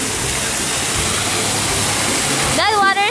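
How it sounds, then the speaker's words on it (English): Cold water rushing and splashing at a water feature in Everland theme park, a loud, steady broadband gush close to the microphone, with a voice speaking over it near the end. "That water is cold, Rachel."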